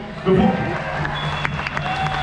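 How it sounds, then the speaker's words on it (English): Crowd at a January 22nd freedom march applauding and cheering after the speakers, a short burst of clapping and shouts that thins out, with voices in the background. "A round of applause to all of you."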